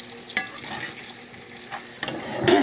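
Minced garlic fries in oil in a pan, a close steady sizzle with a few scrapes and clinks of a utensil, building slightly louder toward the end.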